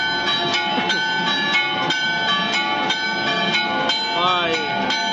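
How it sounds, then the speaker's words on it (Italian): Church bells of San Rocco peal at the patronal feast of the Holy Crucifix in Colonna, Trani, Italy. They strike in a steady, fast, overlapping rhythm, loud and continuous throughout. "Col suono delle campane di San Rocco ci aiuta,"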